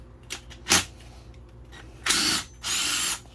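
A power tool works a bolt on a 2003 Honda Accord transmission during a teardown, giving several short bursts of whirring ratchet spin, close and fairly loud, with pauses between them.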